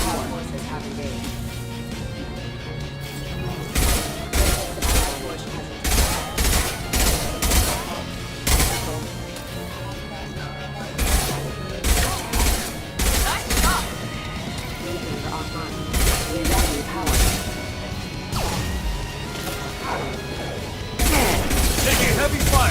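Heavy gunfire from the Mass Effect Legendary Edition video game: repeated bursts of loud, close shots and impacts against a steady backdrop of game music and noise, with voices talking through the firefight.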